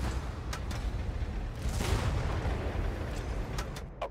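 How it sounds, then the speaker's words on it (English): Gunfire crackles and booms in a World War tank battle video game. The shots come as a dense, rumbling barrage with a few sharper bursts, steady and moderately loud throughout. "We are under gunfire!"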